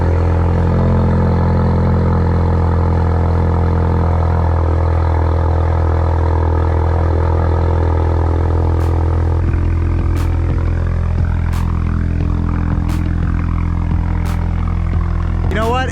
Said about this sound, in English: Before we get started, why don't we give you a cold start?